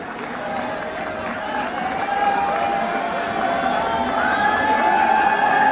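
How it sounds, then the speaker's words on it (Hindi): Crowd at a BJP rally applauding to welcome MLA Shagun Parihar from Kishtwar, a dense, steady wash of clapping and cheering that builds slightly, with a loudspeaker voice over it. "जोरदार ताली बजा के स्वागत करिए"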